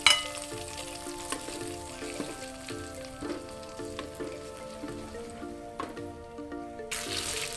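Milkfish stir-fried in a pan for an Acehnese tumeh muloeh sizzles steadily, with rhythmic scraping stirs and clinks of the utensil against the pan at close range.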